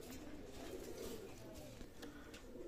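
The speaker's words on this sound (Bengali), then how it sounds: "এক জোড়া গোলালাল কবুতর আছে" A pair of red pigeons coo softly and repeatedly, a low rolling burble that continues through the whole stretch, faint and close with no talk.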